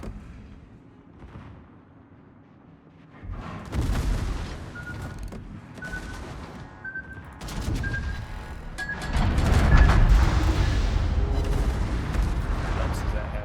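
Naval gunfire from the World of Warships battleship USS Massachusetts: heavy booming salvos and rumbling blasts come in clusters over several seconds, building to a loud barrage near the end, with talk throughout.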